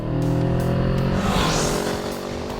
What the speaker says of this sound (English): it's all to a soundtrack of a really quite fruity exhaust